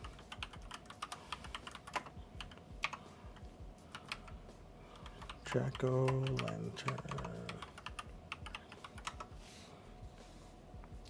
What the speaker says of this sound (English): Don't judge my typing speed.